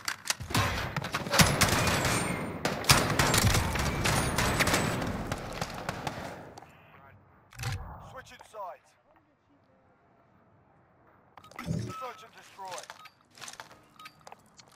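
Rapid video game gunfire crackles densely for about six seconds, close and loud, then falls away to a few sparse later bursts with quieter shuffling between them.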